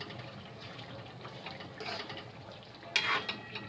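Spices are stirred into dal chicken in a pot, producing soft scraping and clinking of a spoon against metal over a faint background sizzle, with one sharper clatter near the end.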